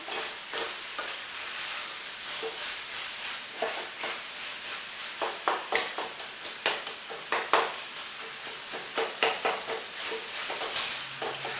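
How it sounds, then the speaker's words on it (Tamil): Tomatoes mashed with a ladle in a frying pan for tomato curry, with repeated close scraping and squishing strokes over a soft sizzle, steady at first and then a quicker rhythmic run of pressing strokes. "இந்த தக்காளி இந்த மாதிரி கரண்டிலாம் நல்லா அப்படியே நசிச்சு விட்டுக்கோங்க"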